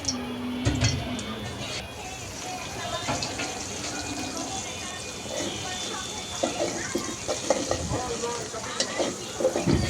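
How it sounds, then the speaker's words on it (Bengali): Onions fry in a pan with a soft, continuous sizzle and occasional clatter, while a voice talks over the cooking. "তো এখানে তরকারিটা বসানোর জন্য পেঁয়াজ ভেজে নিচ্ছে।"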